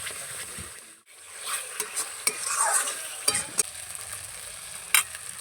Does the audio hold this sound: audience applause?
no